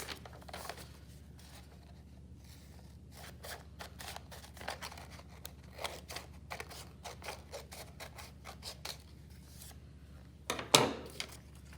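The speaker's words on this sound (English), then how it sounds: "And then I can trim it with scissors." Faint, quiet snips and rustles of scissors cutting paper in a scattered, irregular rhythm, with one louder crinkle near the end.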